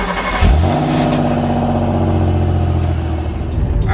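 A 1994 Chevrolet Cavalier drives and accelerates after a shifter repair, its engine droning loud and steady from inside the cabin with rising, sustained harmonic tones throughout and no talk.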